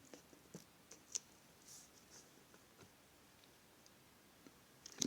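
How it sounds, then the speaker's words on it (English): A pen scratching out a handwritten logarithm exercise, log 27 base 3, in soft intermittent strokes and light taps, close and quiet, with no talking. "I'm running out of space, so I'm just gonna write it here."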